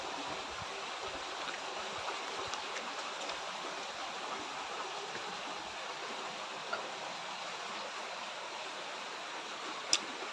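A river flows steadily with full, running water, its broadband rushing wash continuous and even throughout, fairly close, with no voices.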